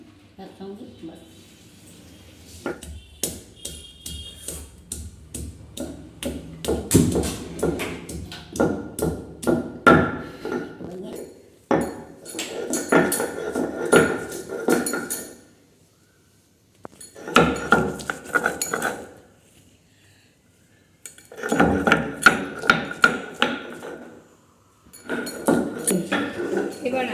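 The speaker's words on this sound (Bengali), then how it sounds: "আদা আর রসুন একসঙ্গে বাটবো।" Ginger and garlic are pounded together into a paste for a wedding-style chicken korma, heard as sharp repeated knocks and clinks from a stone grinder or mortar, loud and steady in bursts with short pauses between them.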